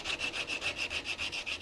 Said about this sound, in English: Now I'll use one of my sanding blocks to make sure that that surface is as flat